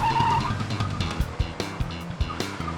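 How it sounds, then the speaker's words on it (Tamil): A cartoon jeep speeds off fast, engine revving and tires screeching in short squealing bursts, loud and close with no talking. "ஜீப்பை நானே வேகமா ஓட்டிட்டு போறேன்."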